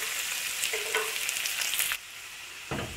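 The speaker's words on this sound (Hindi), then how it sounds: "ऑयल लिया है, इसमें ऐड कर रही हूँ पंचफूरन, हींग, कड़ी पत्ते एंड खूब सारा गार्लिक लहसुन।" Garlic, curry leaves, hing and panch phoron sizzle steadily in hot oil for a Bengali-style tempering, a close, bright crackle that briefly quiets before flaring up again.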